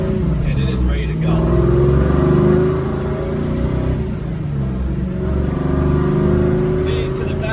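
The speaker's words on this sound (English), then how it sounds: "underneath the hood featuring a nice LS2 engine" A 1968 Chevrolet Camaro SS with an LS2 engine revs and pulls, a loud deep engine rumble with rising and falling tone that holds steady throughout, with a voice talking over it.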